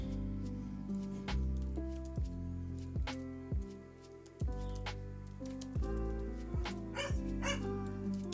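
A dog barks in a series of sharp, separate woofs at an irregular pace, moderately near, with no talk over it.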